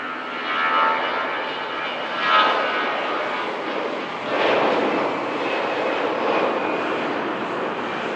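A large twin-engine airliner passes at Manchester Airport, its broad engine roar sustained and steady with slight swells, loud and fairly close, with no talk.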